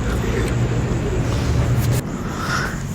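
A Yamaha R15 motorcycle riding on a road, with a steady low engine drone and wind rush that drops noticeably partway through, close and fairly loud, with no clear talk.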